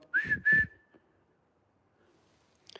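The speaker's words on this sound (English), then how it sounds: "You better blow a whistle or something." Two short, sharp whistle blasts in quick succession, close and clear, followed by quiet and a faint rustle.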